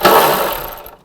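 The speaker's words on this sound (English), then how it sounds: "I'm going to take this bracket off. Just use a 10mm socket." A 10mm socket on a ratchet loosens the brake hose bracket bolt on a 2007-16 GMC Acadia, giving one short, close burst of rapid mechanical clicking that fades out.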